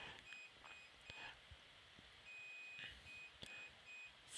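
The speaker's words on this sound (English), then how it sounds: "if you're hearing the beeping, my laundry's done." A finished laundry machine beeps in repeated short high tones, faint and somewhat distant, in groups over low room noise.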